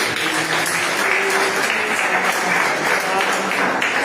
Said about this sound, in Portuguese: Cadê as palmas para Jesus, igreja?